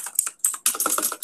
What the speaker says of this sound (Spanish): Perdón por el teclado.